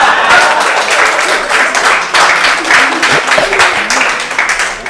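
Audience at a Hindi kavi sammelan poetry gathering breaks into loud, sustained clapping that fills the whole stretch, with faint voices underneath.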